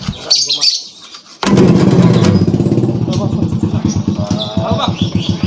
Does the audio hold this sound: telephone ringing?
no